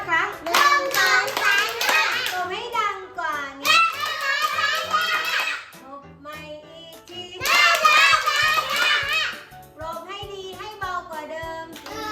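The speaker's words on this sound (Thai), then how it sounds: "ปรบมือให้" Young pupils clap their hands in bursts while children's voices chant loudly over the clapping, with quieter stretches between the louder group passages.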